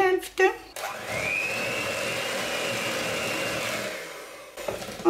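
Electric mixer whirring steadily for several seconds through cake batter after flour sifted with baking powder is added, a close, continuous motor hum that starts and stops abruptly, with brief speech at either end.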